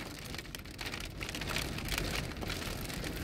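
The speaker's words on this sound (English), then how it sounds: "Hail. Yeah, we got hail." Hail pelts the ground outdoors in the Antelope Valley desert, a dense, steady hiss of countless small impacts at constant loudness with no voices.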